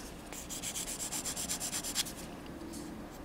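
A file rasps back and forth across the front edge of a fingernail in a nail salon, giving quick, even, close scratchy strokes in a steady rhythm that stop after about two seconds.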